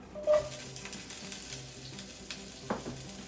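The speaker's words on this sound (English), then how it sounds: "So let's add the onions and saute them." Onions sauté in two tablespoons of hot oil in a pot, giving a quiet, steady sizzle. A few soft clinks and stirring scrapes sound over it, with no talking.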